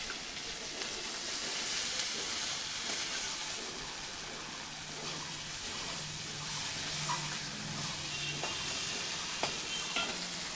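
Spices fry in oil for koi fish curry: a loud, constant hissing sizzle with stirring scrapes and a few clinks, close up and without talk.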